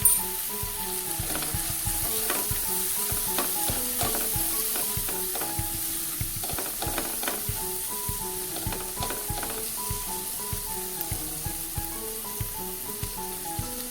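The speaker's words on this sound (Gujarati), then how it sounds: "સ્લો તાપ પર આપણે તેને સંતળાવા દઈશું." Vegetables with turmeric and Kashmiri red chili powder sauté over low heat in a pan for sev upma, giving a steady close sizzle with repeated scraping and stirring strokes throughout.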